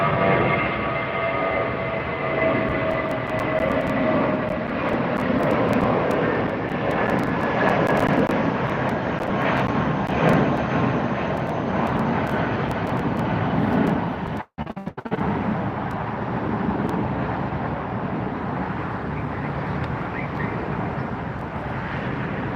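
A Korean Air jet taxis to its parking stand at LAX, a steady broad engine roar holding at a constant level for a long stretch, with one brief sharp dropout partway through.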